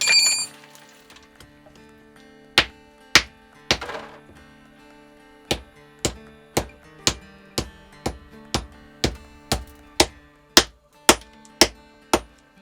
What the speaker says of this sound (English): chipping away at a vein of tin, which is black in color